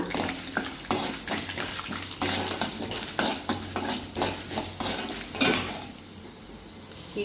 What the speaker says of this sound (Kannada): ಸ್ವಲ್ಪ ಕಡಲೆಬೇಳೆ, ಸ್ವಲ್ಪ ರೋಸ್ಟ್ ಮಾಡ್ಕೊಬೇಕು